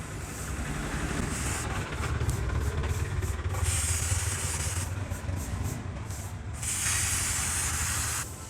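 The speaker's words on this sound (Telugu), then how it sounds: "ఇలా పైన నుంచి స్ప్రే చేయండి" Chain lubricant sprays onto the chain of a Bajaj NS200 motorcycle in three steady hissing bursts of a second or more each, close by, with no talking.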